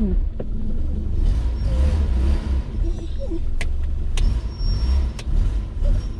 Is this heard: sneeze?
no